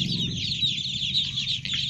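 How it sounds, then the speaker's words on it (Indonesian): Newly hatched ducklings chirp and peep in a constant, busy chorus of high calls that overlap without pause, close by and with no voices. "Saya mengamati dulu anak-anak bebek ini yang lucu-lucu"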